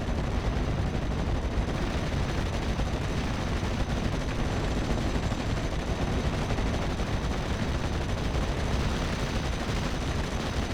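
WWII strategy game battle with artillery barrage and gunfire, a dense continuous roar of overlapping explosions and rapid shots, loud and unbroken with no clear gaps.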